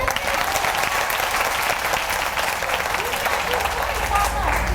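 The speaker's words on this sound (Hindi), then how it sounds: "जोर से ताली बजा दो" Loud, steady applause from a large audience at a talk, dense continuous clapping throughout with voices mixed underneath.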